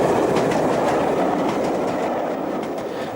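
A small steam locomotive from 1929, in its railway's last year of operation, runs along the track in an archive recording. A steady, loud rolling rumble and clatter of wheels continues without a break, with no voices.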